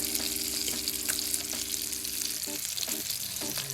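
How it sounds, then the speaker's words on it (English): Fish searing in a hot pan with butter, a continuous loud sizzle with spatter crackles throughout, plus a few brief clinks and stirring sounds near the end. "I just want to sear it on the other side, and also give it that butter taste."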